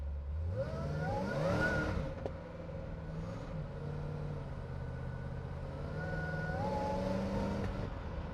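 A deep engine of a 1978 Pontiac Trans Am revs hard and climbs through the gears, then eases to a steady rumble before winding up again in a second strong pull.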